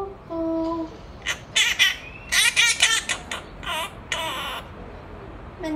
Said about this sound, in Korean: 아직 이 앵무새의 개인기를 다 보지 않았습니다